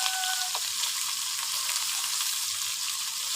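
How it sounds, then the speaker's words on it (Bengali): Fish pieces fry in hot oil for a Bengali fish curry cooked with bottle gourd greens, giving a constant close, bright sizzling hiss with faint crackles and no talking. "মাছটা ভালো করে লাল লাল করে ভেজে নেব, এখনো হয়নি।"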